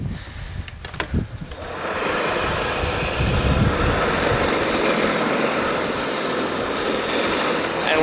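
Ryobi 40-volt 20-inch brushless cordless snow blower clearing a sidewalk, a steady loud broadband whir that starts after a brief quieter moment and runs continuously nearby.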